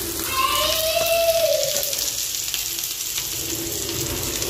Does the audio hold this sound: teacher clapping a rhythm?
no